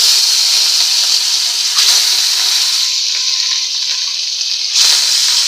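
Fish and potatoes coated in salt and turmeric sizzling in a hot pan, a loud, steady frying hiss close up that surges briefly near the end.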